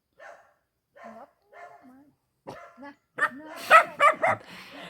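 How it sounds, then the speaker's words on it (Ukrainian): A thin young puppy yips and barks a few times while eating, short high bursts that are soft at first and then louder and more insistent, with no talk in between. "вона починає їсти і гавкає"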